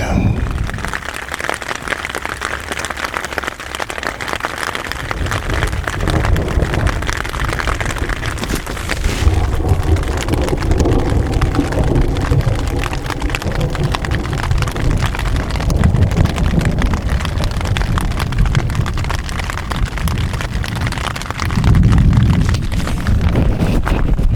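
A thunderstorm with rain on the Mogollon Rim in Arizona rumbles through a long, loud wash of noise, with heavy low booms and gusty wind buffeting the microphone throughout.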